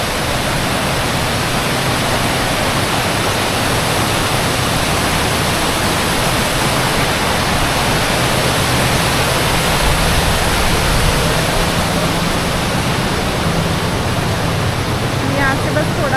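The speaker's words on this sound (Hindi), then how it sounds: "अब आप वाटर का फ्लो देखिए, यहाँ पे कितना ज़्यादा फ्लो है" Heavy monsoon water pouring down Dudhsagar Waterfall, a loud, steady, unbroken roar of rushing water that fills the whole scene at close range.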